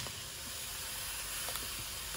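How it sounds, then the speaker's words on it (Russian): A pot of apricot jam bubbles and hisses steadily at low volume as it comes to a boil, with a few soft pops breaking through the constant simmering noise. "Довожу абрикосовый джем до кипения"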